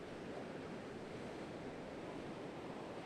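Steady roar of messy shorebreak waves at Clifton, Cape Town, churning continuously with broadband wash and wind noise, no distinct breaks, during a ladies' surf swim lifesaving race.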